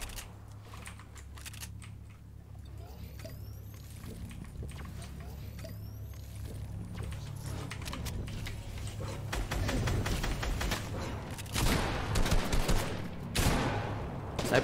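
Gunfire in the Fortnite video game crackles in rapid bursts and volleys, with keyboard clicking throughout and a person talking over the action, the shooting growing denser and louder toward the end.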